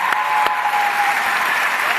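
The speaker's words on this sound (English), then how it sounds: "So I want to give him a big round of applause." Audience applause at a Georgia event with JD Vance, a steady dense wash of clapping filling the whole moment with no talk over it.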